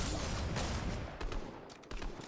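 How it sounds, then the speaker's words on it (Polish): Dense rapid gunfire in Fortnite crackles continuously, bursts layered over each other with a few sharper cracks near the end, steady and loud with no speech. "Słyszałem strzały."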